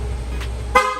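A Yamaha Mio i scooter's horn gives one short, loud honk near the end, over a steady low engine or electrical hum, with a fainter blip just before it.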